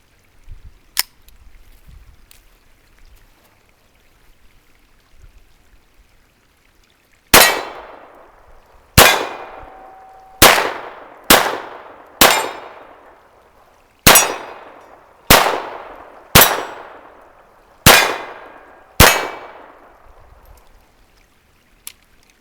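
A Ruger MK IV .22 LR pistol fires ten sharp, loud shots spaced roughly a second apart, each with a short ringing decay, after a quiet stretch without speech.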